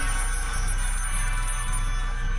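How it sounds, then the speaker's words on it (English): A telephone rings inside the video game White Shadows, a loud, continuous electronic ringing that repeats steadily through the whole stretch with no voices over it. "I am once again hearing the phone, though, which has been fairly ominous thus far."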